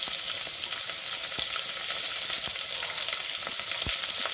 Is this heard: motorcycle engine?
no